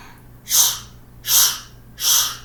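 Three forceful, breathy exhales through the nose during hot yoga breathing, evenly spaced about once every three-quarters of a second, close and loud with quiet gaps between.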